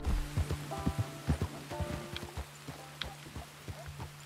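Horse hooves clip-clop at a steady walking pace in the Red Dead Redemption 2 game world, close and fairly loud, with a light patter like rain in the background.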